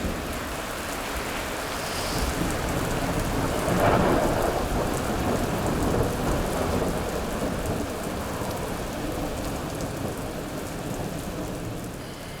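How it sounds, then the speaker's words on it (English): Steady rain pours down with a low rumble of thunder building around the middle, a continuous wash of storm noise with no voices. "And it's raining."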